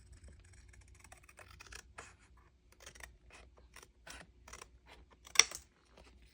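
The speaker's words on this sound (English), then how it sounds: "Should I just cut with my scissors?" Scissors cut through an old postcard with a series of faint, close snips and scraping rasps in an irregular rhythm, ending with one sharper clipped snip in an otherwise quiet room.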